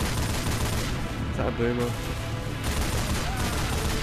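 Rapid machine-gun bursts from a mounted turret in Left 4 Dead 2 hammer on continuously and loud, with other gunfire mixed in and a player talking over the shooting.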